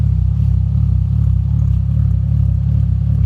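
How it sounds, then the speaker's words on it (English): A Lexus GS300 with a swapped 2JZ-GTE engine idles with a deep, throbbing exhaust burble, steady and loud, with slight rises in revs and no voices. "Listen to the exhaust."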